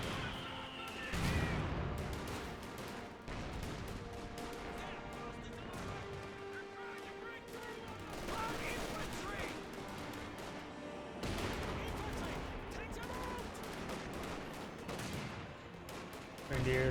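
Company of Heroes 2 battle gunfire, including fire from bazooka Rangers, comes as dense bursts and rattling volleys that last through the stretch, with a faint tonal hum beneath.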